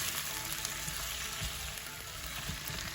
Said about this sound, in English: I'll give this a little toss up so it can be covered in that oil and all the flavors from the onions.